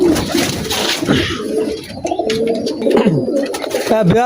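Teddy pigeons, including a young male bred from KTM Teddy and Saki Teddy stock, coo in soft, repeated throaty calls that overlap close by, with a few brief chirps mixed in.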